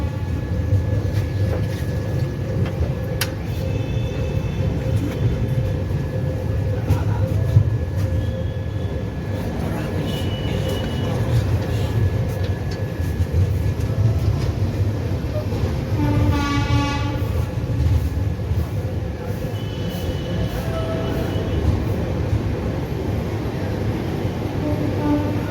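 The 12881 Garib Rath Express runs at speed after leaving Santragachi Junction, a loud steady rumble heard from on board with a brief horn in the middle.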